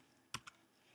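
Two quiet keystrokes on a computer keyboard while a web address is typed, close and isolated, with faint background noise.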